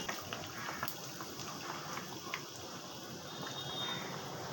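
Malpua batter sizzles in a deep pan of hot oil, a soft, continuous bubbling crackle with a few sharper pops, heard fairly close and fairly quiet.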